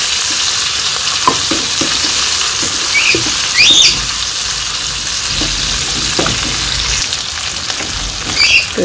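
Green chillies sizzle in hot oil with frying onions in a village kitchen, a steady close hiss with scattered stirring clicks and taps throughout.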